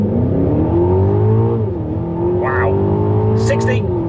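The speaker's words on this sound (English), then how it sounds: "Okay, straight bit of road, 0 to 60 test." An Aston Martin DBX, a big SUV, accelerating hard from a standstill on a straight road, engine note rising steadily through the gears with a brief dip at a shift, close and loud from inside the car.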